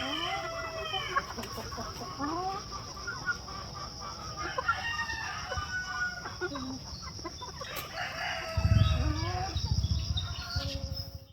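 Laying hens cluck and a rooster crows amid a busy farm flock, with steady insect-like hiss and a burst of rustling or shuffling near the end.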